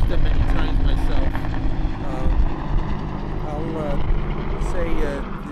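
Helicopters pass overhead at a ham radio special event station at WSB Studios in Atlanta, a loud, steady rotor drone that swells and fades while people talk.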